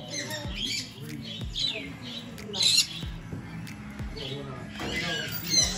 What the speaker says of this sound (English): Look at these little conures. They're so cool.